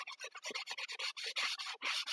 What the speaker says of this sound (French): je prends une lime à ongles comme ceci